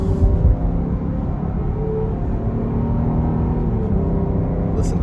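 A 2022 Jeep Grand Cherokee L Summit Reserve 4x4 runs with a steady, smooth engine hum and road drone at constant speed, with no revving and no talk.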